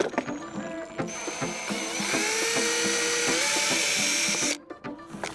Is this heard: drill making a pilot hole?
yes